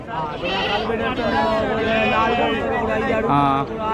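Goats bleat repeatedly amid a busy crowd at a Dasara tribal market in Hukumpeta, Araku, with people talking loudly over the animal calls throughout.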